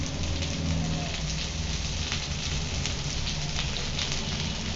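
Cabbage, green chilies and curry leaves fry in a pan for spicy egg fried rice, a dense, steady sizzle like rain on a surface, close and even throughout with no speech.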